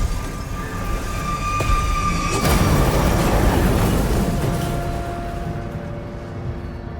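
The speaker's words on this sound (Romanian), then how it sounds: "Deci, după cum se aude, e problemă cu trenul." Train running in the video game Far Cry New Dawn, a loud steady rumble and rattle of rail cars with tonal hums, swelling slightly in the middle before easing off, with no talk.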